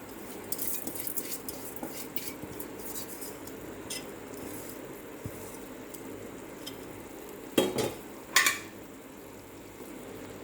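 A spoon scrapes and clinks against a pot as washed, drained rice is stirred for tomato rice, with soft sizzling beneath and two sharper metallic knocks near the end; fairly quiet and close, no talking.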